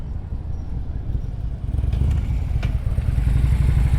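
Motorcycle ridden slowly during a slow-speed riding skills practice session in Ohio: a low engine rumble with clattering, rising slightly in loudness, close by and alone without talk.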